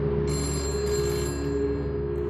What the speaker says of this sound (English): The phone's ringing, I guess?